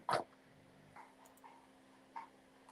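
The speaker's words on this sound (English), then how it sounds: "my dog's going crazy." A dog lets out one sharp, loud bark close by, followed by a few softer whimpering yips spaced apart against quiet indoor background.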